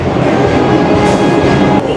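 A New York City subway train near 34th Street–Penn Station gives a loud steady roar and rumble of rolling cars inside the station, continuous and close, with no clear talking.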